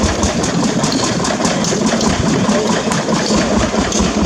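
Old McDonald tractor engine running at an outdoor show: a steady, rough, rhythmic chugging drone close by with no pauses, without any audible starting moment.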